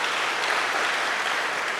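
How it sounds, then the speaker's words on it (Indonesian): A church congregation applauding during a service, a steady wash of clapping from many hands that fills the whole short stretch at an even level, with no voices standing out. "Beri tepuk tangan untuk Tuhan Yesus"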